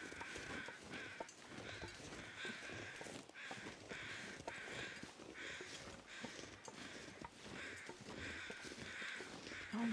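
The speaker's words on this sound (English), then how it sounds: "Oh my goodness, there are so many crows. I just hear crows everywhere." Many crows caw repeatedly in The Long Dark, harsh calls overlapping at an irregular rhythm, some near and some farther off, over a soft outdoor backdrop with no talking.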